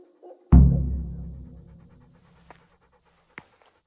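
Dog in the video game Kingdom Come: Deliverance, heard as one sharp close burst followed by a fading breathy huff and a couple of faint later clicks, with no voices.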